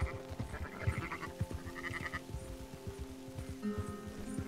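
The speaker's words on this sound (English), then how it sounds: "What are these sheep doing?" Sheep in the video game Red Dead Redemption 2 bleat in several short, overlapping calls against a steady low ambient hum, fairly quiet overall.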